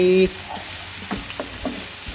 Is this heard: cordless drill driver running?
no